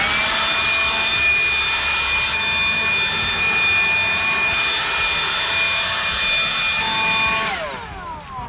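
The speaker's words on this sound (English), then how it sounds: "All I'm doing is blowing the leaves," Battery-powered leaf blower blowing leaves in a yard, a steady high whine with a broad airy rush that runs continuously close by, then winds down near the end.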